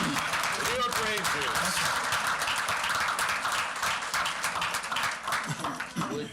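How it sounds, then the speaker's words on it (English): Applause from the audience at an Oyster Bay town board meeting, a steady dense patter of clapping with some overlapping voices that thins slightly near the end. "Round of applause."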